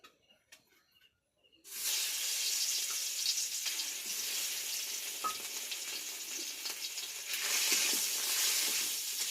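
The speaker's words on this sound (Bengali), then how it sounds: "মাছের মুড়ো করে লাল লাল করে ভেজে নেব।" Fish heads rubbed with turmeric and salt sizzle loudly in hot mustard oil, a steady close crackling hiss that starts abruptly after a quiet moment and continues throughout.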